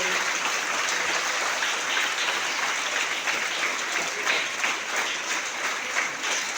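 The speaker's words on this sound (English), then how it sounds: "all of you please clap hands for Sanathoy Warepur." Students at a school assembly give a long round of applause, many hands clapping in a dense, even roar that holds steady and fills the room without any talking.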